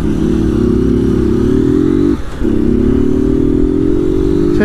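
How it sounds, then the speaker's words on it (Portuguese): Motorcycles roar past on a road, a loud steady engine drone with one brief dip before the next bike rolls through close by, no talk. "Olha o tanto de moto, família."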